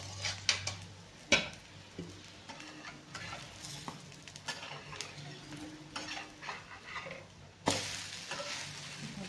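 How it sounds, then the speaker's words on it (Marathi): A mung bean dosa fries in oil on a griddle, giving a quiet steady sizzle broken by occasional clinks and scrapes of a utensil against the pan. "दोन्ही साईडनी छान असा लाल खरपूस आपल्याला हा डोसा मस्त असा भाजून घ्यायचा"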